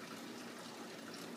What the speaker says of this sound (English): pour it into the blender